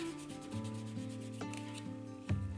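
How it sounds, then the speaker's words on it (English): A baby wipe rubbing paint off a gelli print plate in close, continuous strokes, with scratchy friction and a few sharper swipes over a steady low background hum. "just keep moving your baby wipe around"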